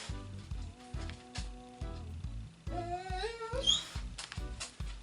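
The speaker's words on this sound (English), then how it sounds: "You hear my dogs whining." Dogs whining indoors, a few high rising whimpers and yelps layered over rhythmic background music, fairly quiet and close.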